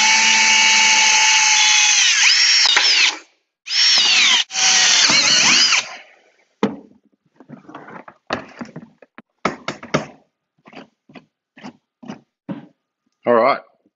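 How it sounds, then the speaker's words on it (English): A drill with a blunt bit whines in two long, strained bursts while drilling holes for a Dutch bucket hydroponic system, then stops; short clatters and a voice follow in choppy fragments. "It helps if you use not a blunt drill bit."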